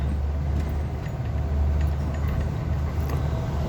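A car rolling through the Subtropolis underground complex, a steady low engine and road rumble that fills the space evenly and holds constant throughout, with no voices.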